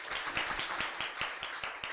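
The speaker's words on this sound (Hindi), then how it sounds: "एक बार सर के लिए जोरदार ताली" An audience claps for a teacher at the front of a classroom or stage, a steady crowd of hands slapping together close by for a couple of seconds with no talk.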